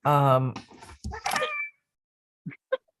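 A cat gives a long, loud meow up close, followed by brief rustling and a few faint clicks.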